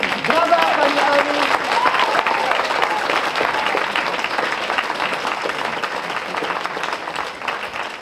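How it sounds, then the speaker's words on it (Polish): A full theatre audience gives a guest sustained, loud applause that carries on for about eight seconds, dense and even, with a few raised voices over it at the start. "Brawa, pani Ali!"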